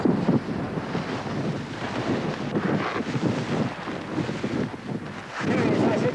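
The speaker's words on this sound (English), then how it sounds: "I reckon the wind's blowing about 45 mile an hour constant." Strong, constant wind of about 45 mph buffets the microphone high on Mount Everest, a dense roaring rush with gusty surges that swells louder near the end, while a voice is faintly present.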